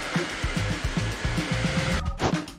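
A vacuum cleaner's steady, droning motor whine runs throughout, with a rhythmic low thumping underneath, then briefly shifts in tone near the end.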